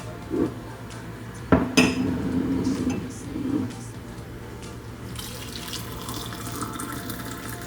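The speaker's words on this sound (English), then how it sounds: "So I have boiling water here. We're gonna see if this works. All right, I'm pouring it in." Boiling water poured into candle jars, a close splashing pour with glass clinks and a sharp knock, followed by a softer steady hiss of water filling.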